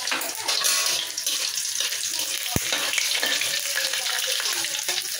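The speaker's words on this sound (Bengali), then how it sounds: "এবার আমি কালো জিরা দিয়ে দিলাম" Nigella seeds (kalo jira) with slit green chillies sizzle in hot oil in a pan, giving a steady loud crackling fry with faint stirring and one sharp clack of a spoon partway through; no one speaks.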